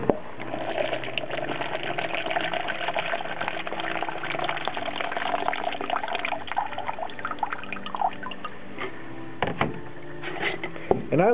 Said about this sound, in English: So you pour water in there.